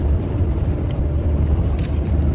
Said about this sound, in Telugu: బస్సు ఫాస్ట్గా వెళ్ళిపోతున్నాయి.